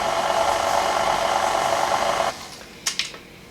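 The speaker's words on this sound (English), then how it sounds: "we're just gonna put that on our mixer, and we're just gonna mix that together for just a few seconds just to get everything incorporated" An electric stand mixer whirs steadily for a couple of seconds while briefly blending dry ingredients for a chocolate coconut cake, then cuts off, followed by a few light clinks. No one speaks.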